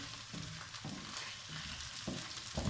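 Garlic paste, onion and ginger fry lightly in a pan for Lahori chana. A soft, steady sizzle is broken by a few stirring scrapes at intervals, quiet and close.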